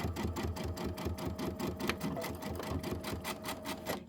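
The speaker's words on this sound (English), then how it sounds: "Just sew off a little bit" A sewing machine runs while piecing quilt blocks, giving a fast, even rhythmic clatter of the needle, close and steady the whole time with no talking.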